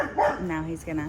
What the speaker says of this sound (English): excuse the barking